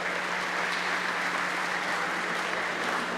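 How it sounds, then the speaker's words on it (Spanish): Steady, dense applause from an audience at a ribbon cutting opening an exhibition, a continuous wash of many hands clapping at even loudness throughout, with no talk over it. "Con el aplauso de ustedes ha sido cortada la cinta y inaugurada oficialmente esta exposición."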